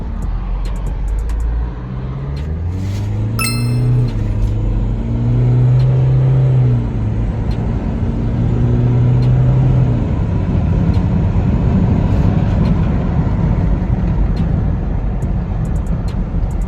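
An Isuzu MU-X with a 1.9 engine runs on a test drive, a steady engine drone with a rising and falling rev tone over continuous road rumble, heard from inside the cabin without speech.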